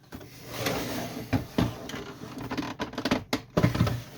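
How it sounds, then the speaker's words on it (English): Paper tray of an HP ENVY 4500 printer pulled out, giving a few plastic sliding scrapes and clicks, then several sharper knocks and rattles near the end, close and moderately loud. "We're going to pull the tray out like that and take that out."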